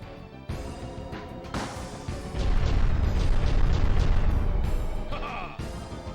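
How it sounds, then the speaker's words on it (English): In The Legend of Dragoon, a thrown detonate rock bursts with a loud, rumbling explosion that swells and lingers for several seconds, layered with game effects and ending in bright chiming tones. "Let's throw a detonate rock at him"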